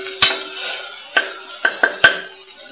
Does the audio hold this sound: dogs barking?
no